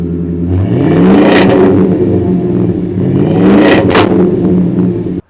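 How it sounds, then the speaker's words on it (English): Exhaust of a 2025 Ford Super Duty Tremor truck revving hard, two loud rising surges with deep rumbling harmonics, close to the microphone, with no talking. "let you listen to what this exhaust sounds like, because it looks small, but man, it packs a punch"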